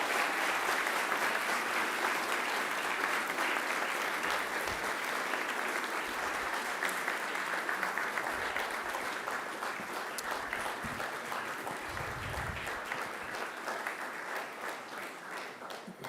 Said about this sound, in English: give them a mighty round of applause in appreciation